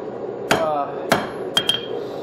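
A hammer strikes hot metal on an anvil while a blacksmith rounds the corners of a forged hammer hanger. Four sharp ringing blows land at uneven intervals, close and loud, over a steady forge hum.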